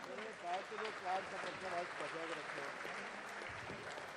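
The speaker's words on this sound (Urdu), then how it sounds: "زوردار تالیوں کے درمیان" Audience applause at an Urdu conference, a steady bed of clapping throughout with voices or music tones layered over it, fairly faint overall.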